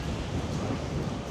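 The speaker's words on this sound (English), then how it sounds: "Oh, the wind!" Strong gusting wind on Blackpool seafront on New Year's Eve, a continuous broadband roar buffeting the microphone, heard close and alone.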